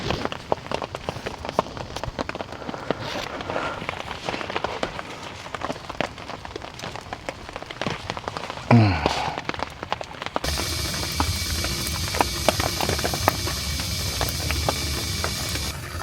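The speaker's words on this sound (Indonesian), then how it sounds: "Suara hujan kayak gini juga indah banget." Steady rain pattering on a surface in a forest campsite with scattered droplet hits, growing denser and heavier toward the end, no voices.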